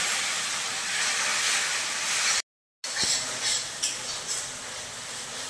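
Ground spices with chilli powder, coriander-cumin powder and a little salt fry with added water in a pan, giving a steady loud sizzling hiss, briefly cut off, then returning with a few small pops.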